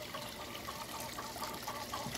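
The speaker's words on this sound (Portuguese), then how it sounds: "Aquele cano branco ali capta água através de uma bombinha e retorna a água para dentro da própria caixa." Water from a small pump's white pipe pours back into a water tank holding tilapia, a steady, even splashing trickle that runs throughout at moderate volume.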